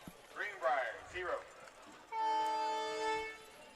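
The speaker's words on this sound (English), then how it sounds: "Thank you, train whistle." Voices talk first at a high school football game, Greenbrier against Portland, then a train whistle sounds one long, steady, clear blast that carries to the end.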